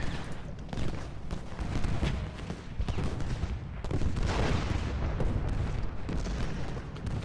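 Dense, continuous battlefield din of Gettysburg artillery and musket fire in the Ultimate General Gettysburg video game, repeated booming volleys overlapping into a rolling roar at fairly loud level, with a voice talking intermittently beneath.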